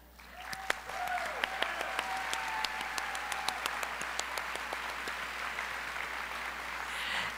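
Applause for 24 teacher honorees, 2019 State Teacher of the Year recipients, at a Louisiana education summit: a large audience clapping steadily for several seconds with a few sharper individual claps, fairly distant and even.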